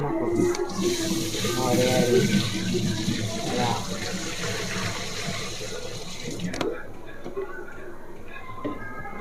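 Water pours and splashes steadily into a clothes washing machine drum, a rushing flow that cuts off abruptly near the end, with voices talking faintly underneath.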